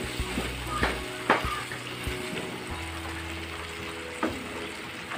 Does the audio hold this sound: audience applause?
no